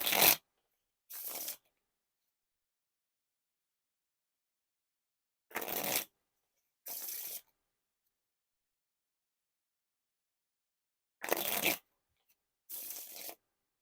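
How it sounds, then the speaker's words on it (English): Red Chancers playing cards are riffle shuffled in three pairs of quick bursts: a crisp riffle, then a shorter bridge, separated by silence. "Now time for the riffle shuffle or bridge shuffle."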